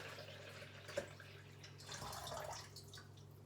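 Water tipped from a jug into a measuring container, a faint splash and trickle after a small knock, quiet and close.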